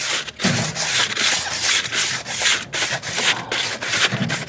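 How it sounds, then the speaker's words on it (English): Crumpled tinfoil scrubbed hard across barbecue grill grates, a continuous loud scraping rasp in back-and-forth strokes with brief pauses, close and alone. "We'll take a little tinfoil, clean up the grates."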